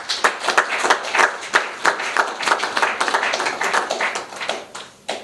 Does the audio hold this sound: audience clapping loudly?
yes